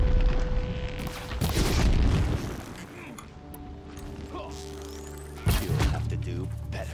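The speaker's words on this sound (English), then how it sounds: "So he has a sonic shotgun." Sonic shotgun blasts in the video game Horizon, heavy booming thuds among mechanical game effects and rumbling, with a player talking over the action.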